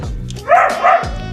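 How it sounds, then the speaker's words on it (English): A guard dog barks close by in a garage, two sharp loud barks in quick succession. "He's a guard dog."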